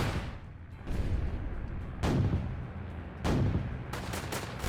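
A Bofors gun fires in Northend Tower Defense, a World War II and zombie strategy game, loosing several heavy bursts of shots spaced about a second apart over a low background rumble.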